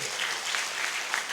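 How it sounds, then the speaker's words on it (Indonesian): Brief burst of steady audience applause during a plenary session of a church congress, dense clapping filling the moment. "Tepuk tangan paling meriah."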